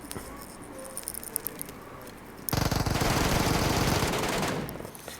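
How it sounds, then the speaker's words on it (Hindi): Automatic gunfire in the mobile battle royale game PUBG Mobile, a rapid burst of close, loud shots lasting about two seconds after quieter scattered sounds. "इतने में ही हमारे पे फायरिंग होने लगती है"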